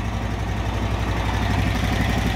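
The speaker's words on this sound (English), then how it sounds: "And we're idling at 1400 RPMs." Honda car engine idling at about 1400 RPM, a steady low throbbing rumble with even pulsing, close and continuous throughout.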